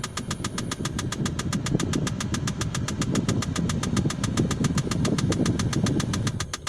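Kia Sportage with its engine idling, a steady low rumble under a fast, even ticking or clicking that repeats throughout, up close inside the car with no talking.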